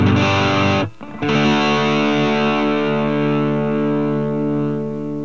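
A Donner Tube Drive Nano overdrive pedal pushes an electric guitar into loud, high-gain distortion, a sustained saturated chord that briefly cuts out and then rings on steadily, slowly fading.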